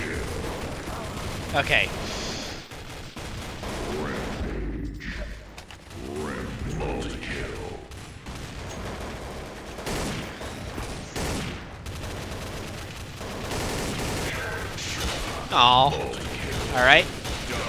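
Shotgun blasts and other gunfire in Counter-Strike: Source during a competitive match, sharp reports scattered through the scene while someone talks briefly over the action.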